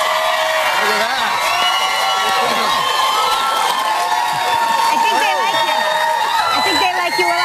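A television studio audience cheers, whoops and applauds loudly and continuously, a dense crowd roar with scattered shouts that never lets up.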